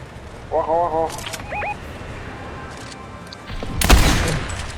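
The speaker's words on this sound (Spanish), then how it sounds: "Están disparando." Gunfire in Fortnite: a few sharp shots, then a louder burst near the end, mixed with chirpy game effects while players talk over it.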